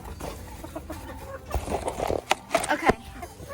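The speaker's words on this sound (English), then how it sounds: "The chickens are not happy." Farm chickens cluck and squawk agitatedly at close range, in uneven bursts that grow louder in the second half, with a few sharp peaks.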